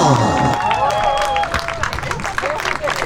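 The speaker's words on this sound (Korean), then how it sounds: "박수 주세요." An audience at a street performance of traditional gakseori beggar-song entertainment in front of Oido's red lighthouse breaks into loud, dense applause close by, with crowd chatter and cheering underneath.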